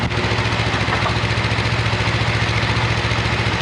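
Honda 400X motorcycle idling nearby with a steady, sharp, even low pulse, no voices over it.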